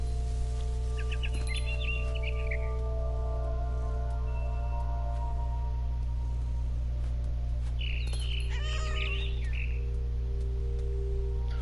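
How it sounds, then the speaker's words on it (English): A frightened bird in the video game What Remains of Edith Finch gives two short bursts of chirping calls, one near the start and one later, over a loud, steady hum of game ambience. "I tried to be quiet, but the bird was really scared."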